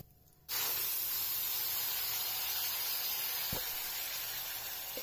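Tomato puree poured into hot oil for a sweet tomato chutney starts a sudden loud, steady sizzling hiss that holds continuously and close, with no talking.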